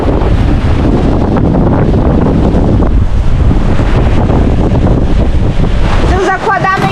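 Strong wind of around 30 knots roars across the microphone aboard a sailing boat mid-Atlantic, loud and unbroken with water rushing below, and a voice briefly breaks through near the end.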